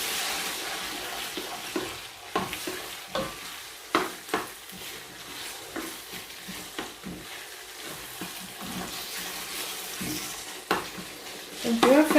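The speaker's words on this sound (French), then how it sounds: "I keep stirring." Passata sauce stirred and frying in a pot, with a steady sizzle throughout and repeated spoon scrapes and knocks against the pot over about twelve seconds, close up with no talking.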